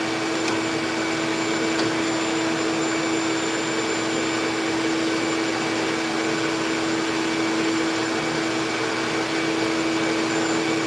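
Shop vacuum running in a workshop, a loud, constant whining roar with a steady high tone that holds unchanged from start to finish without pauses or voices.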